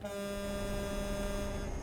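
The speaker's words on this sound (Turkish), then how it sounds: "Şöyle bir de havalı kornası var." Truck air horn in Euro Truck Simulator 2 on a double-trailer rig on a motorway: a sustained, steady tonal blast that holds for about two seconds, alone with no talk.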